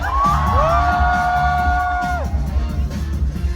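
A live studio audience at the It's Showtime variety show shouts and cheers loudly, a dense crowd roar with whoops and a long rising, sustained yell standing out above the din.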